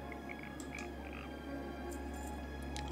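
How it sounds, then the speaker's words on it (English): Frogs croak in the swampy Drustvar zone of World of Warcraft: soft, repeated croaks and chirps over a low steady ambient hum, fairly faint, with no voices. "I hear frogs, yep, that's from Drustvar."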